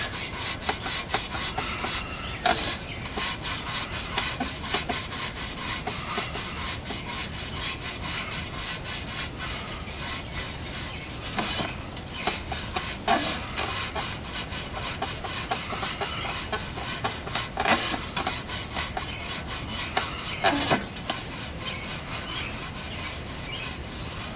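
The cut end of a transmission line cable being cleaned before a flange is soldered on, heard as close, continuous rubbing and scraping strokes with a few sharper scrapes along the way.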